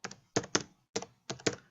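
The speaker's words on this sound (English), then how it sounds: "you're going to want to just go into your toolbar and just type in my website" Computer keyboard keys tapped close up in short quick bursts while typing a website address, about five or six crisp clacks with brief pauses between.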